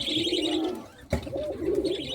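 An old male pigeon coos in soft, throaty bursts nearby in a pigeon shop at Khulna Bara Bazar, with a brief thump or rustle partway through.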